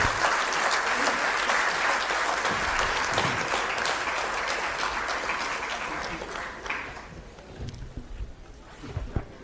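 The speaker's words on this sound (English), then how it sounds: "Can we have a round of applause" An audience at a book launch honouring Mallikarjun Kharge breaks into sustained applause, loud dense clapping that holds steady before thinning and tapering off toward the end.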